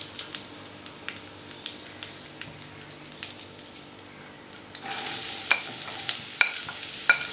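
Chopped onion and garlic are sautéed in a pan. A quiet sizzle carries regular spatula taps and scrapes, then the frying grows suddenly louder and brighter while sharp stirring clicks continue.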